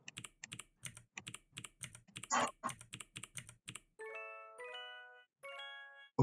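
Rapid, steady keystrokes on a computer keyboard during a typing exercise, a dozen or so crisp clicks, followed by three bright chime-like tones, heard close and alone.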